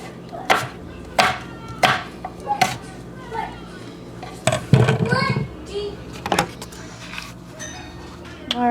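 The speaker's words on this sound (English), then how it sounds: "those are our potatoes cut up" Kitchen knife chopping potatoes on a cutting board, a series of sharp irregular thuds close by, with children's voices and kitchen clatter in the background.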